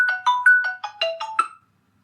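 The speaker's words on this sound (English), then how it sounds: "That was my phone." A mobile phone ringtone chirps out a quick melodic run of about eight bright electronic notes, clear and close, then stops into silence, with no one talking.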